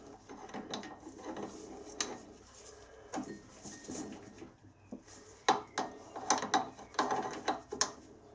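Metal change gears on a small lathe are worked into mesh by hand, giving soft irregular clicks, clinks and scraping taps, close and fairly quiet, with sharper metallic knocks toward the end.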